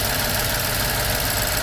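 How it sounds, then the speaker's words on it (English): A car engine is revved to about 2000 RPM during a check for a bad catalytic converter, a steady, loud mechanical drone holding evenly throughout with no talk. "accelerate it like to 2000 RPM"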